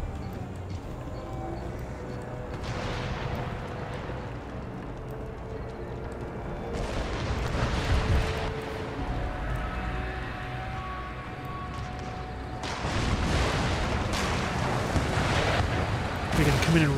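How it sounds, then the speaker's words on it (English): Mortar rounds thud and rumble in bursts during an Empire Total War siege assault on Hyderabad, swelling in loudness three times amid continuous battle din, with no voice in the moment. "Damn these stupid annoying mortars"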